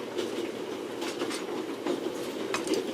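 Train running on rails in the video game The Raven, a steady rumbling roll with rhythmic clickety-clack beats, loud and continuous with no talk.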